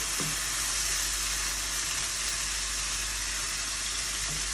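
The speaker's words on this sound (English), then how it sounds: "it's been going about a couple of minutes of frying" Chicken for Pad Ga Prao fries in rice bran oil, producing a constant bright hiss of sizzling that stays even and close from start to finish, with no talking.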